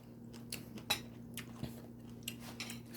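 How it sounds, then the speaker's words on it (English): Crunchy homemade sauerkraut cabbage chewed close to the mic, with soft irregular crisp bites and squishy mastication over a low steady hum, no talking. "The cabbage gets so crunchy"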